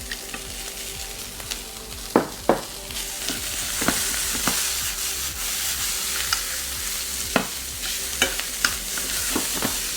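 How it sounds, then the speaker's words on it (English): Chorizo fries with potatoes in a pan, giving a steady close sizzle throughout, broken by occasional sharp clicks and scrapes of stirring. "I'm going to add the chorizo to it. About a half a cup."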